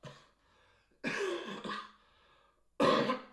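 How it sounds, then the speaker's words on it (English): A few harsh coughs and throat clearings from someone getting over a virus come in separate bursts, close and fairly loud, with quiet pauses between them. "They just said the cough was going to last for a while, and it has."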